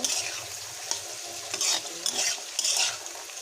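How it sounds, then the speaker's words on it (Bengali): Peas and vegetables sizzle and hiss in a hot pan while a utensil stirs them in quick scraping bursts, the stir-frying loud and close throughout. "মটরশুঁটিগুলো দিয়ে নেড়ে ছেড়ে নেব।"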